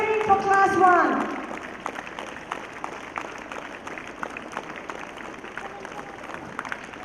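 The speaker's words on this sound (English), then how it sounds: "We need more cheering for class 1" Crowd at a school sports day for pre-KG to Class II children, clapping and cheering at a steady murmur with scattered claps, and an adult voice talking over it at the start.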